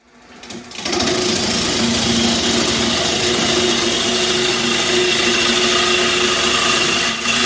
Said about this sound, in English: attach this piece of wood to the lathe and start cutting.